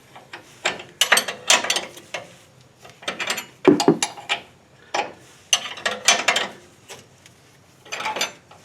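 A ratchet wrench breaking loose a ball joint nut on a Mitsubishi Raider/Dodge Dakota, loud close bursts of rapid clicking in uneven repeated strokes, separated by short pauses and one heavier clunk midway.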